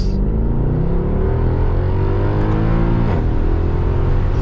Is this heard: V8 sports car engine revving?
yes